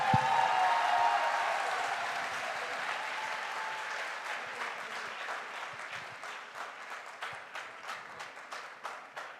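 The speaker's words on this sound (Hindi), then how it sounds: "तालियां इतनी कमजोर" Audience applause at a direct selling motivation event, a dense wash of clapping that starts strong and slowly thins out, with individual claps becoming more distinct toward the end.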